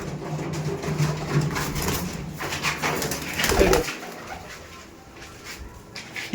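Kalanka pigeons coo in a low, throaty murmur through most of the stretch, a few soft swelling calls rising then fading, fairly close and alone without talk.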